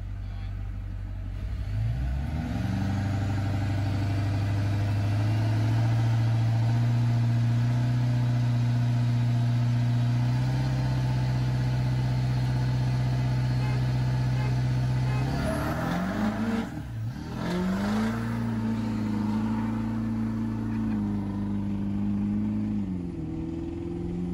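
A vehicle in two-wheel drive launches hard from a standstill, its engine revving up into a long sustained roar, then dropping briefly and surging again as it slides a little sideways, loud and close.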